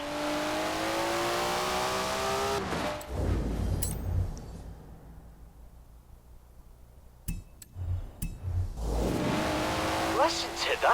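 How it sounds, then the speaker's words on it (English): A modified Datsun car in the racing game Forza Horizon 4 revs hard with a loud, close, rising engine howl, cuts out into a near-silent gap, then roars back with sharp bursts and further revving. "Listen to that! Never heard a Datsun sound like that, have you?"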